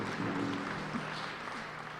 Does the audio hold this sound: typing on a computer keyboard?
no